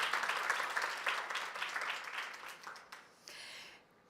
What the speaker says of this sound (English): really a great applause to Saudi Arabia